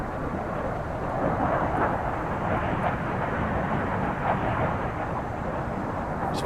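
Aircraft engines roar steadily in the Sea Power naval wargame, set in the Mediterranean in 1983, as combat and anti-submarine warfare planes fly; a dense, continuous drone with no talk over it.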